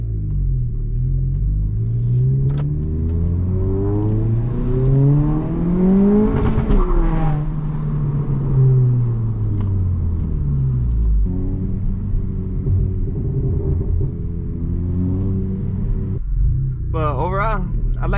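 A modified 2022 Honda Civic Si with downpipe and front pipe, heard from inside during a night drive, its engine droning and rising through revs, then easing back to a steady cruise rumble.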